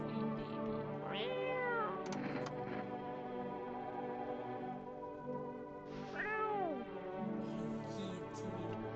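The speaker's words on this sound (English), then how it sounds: "Wait, I want to pet the cat first." A cat in the video game No, I'm not a Human meows twice, clear rising-and-falling cries several seconds apart over a quiet steady background hum.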